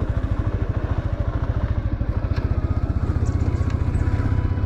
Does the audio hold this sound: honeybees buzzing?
no